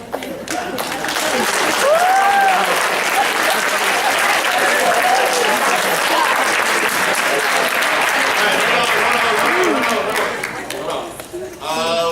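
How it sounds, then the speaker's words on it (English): Audience applause fills a lecture hall, dense and steady clapping at full volume for about ten seconds, with scattered voices and cheers mixed in before it thins toward the end. "I know you just clapped"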